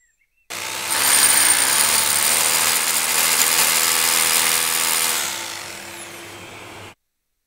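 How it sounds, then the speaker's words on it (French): Power drill boring into a concrete wall with a 12 mm masonry bit to mount an awning bracket, one loud continuous whine lasting about six seconds, close and steady, then stopping abruptly, no talking. "Une fois que tu as tout mesuré et marqué, tu peux percer."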